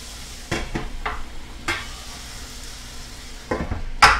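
Broth is poured into a pan of onions and celery, giving a few bursts of hissing sizzle and stirring scrapes over a low steady frying hiss, with a sharp utensil clink at the end.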